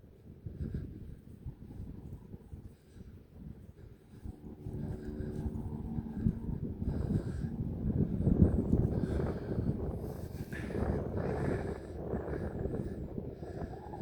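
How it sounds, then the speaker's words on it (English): A low, rumbling drone of a helicopter swells gradually as it draws closer, growing louder and more broadband before holding steady overhead. "Sounds like we've got a helicopter."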